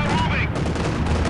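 Loud, dense gunfire during a Company of Heroes 2 battle, a continuous rattle of shots filling the short moment, with voices talking over it.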